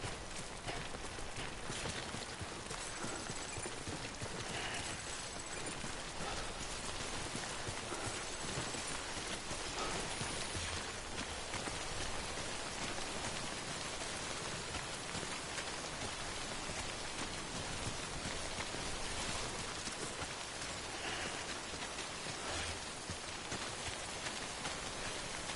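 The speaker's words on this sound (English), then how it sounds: "it's definitely still raining." Steady, dense rain in the video game Death Stranding pours throughout with a constant hiss of drops striking surfaces, no voices, evenly loud from start to end.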